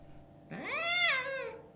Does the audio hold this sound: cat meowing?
yes